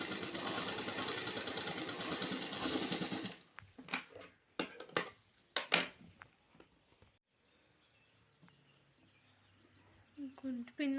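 A sewing machine stitches along the edge of an embroidery blouse, whirring steadily for a few seconds, then giving way to short bursts of stitching and handling noises with some quiet gaps.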